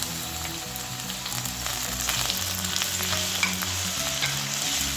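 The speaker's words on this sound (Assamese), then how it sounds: "এইখিনি মই ভালকৈ অলপ ভাজি লৈছোঁ।" Chopped onion, garlic and ginger fry in a pan for an Assamese paneer and capsicum dish, giving a steady, close sizzle with occasional stirring, no voices.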